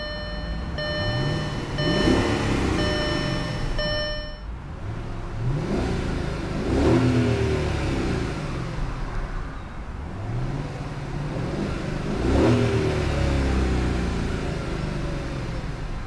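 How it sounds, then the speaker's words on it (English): A 2004 Audi A8 L engine revs up and settles several times, deep and throaty, with a steady rumbling idle between the surges. "Very muscular sounding engine."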